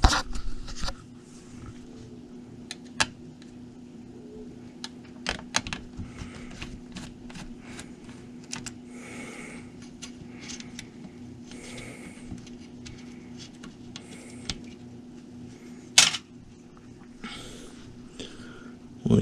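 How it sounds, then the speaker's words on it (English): Screws being removed from an Alienware Alpha computer with a small screwdriver: faint, sparse metallic clicks and ticks spread over a quiet hum, with a sharper click near the end. "So we gotta pull these screws out just to make a little bit of room."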